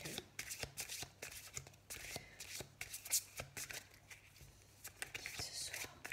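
Playing cards are shuffled by hand during a card reading, a soft, close, repeated riffle and slide of cards in quick bursts, with a faint voice in the background.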